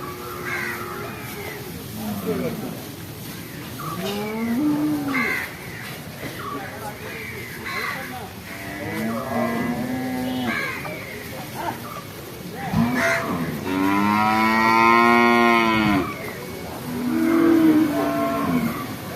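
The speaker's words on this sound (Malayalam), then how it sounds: "അവിടെ കാളക്കന്നുണ്ട്" Young bull calves low among other cattle at a busy livestock market in Kollannur, Kerala, with repeated moos rising through the din, one long call standing out, while people talk nearby.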